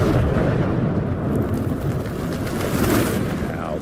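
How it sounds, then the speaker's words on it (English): An explosion in the video game Evil West, heard as a loud, sustained roaring rumble with a dense low boom that slowly eases off, no speech over it. "Now that is how you shape an explosion."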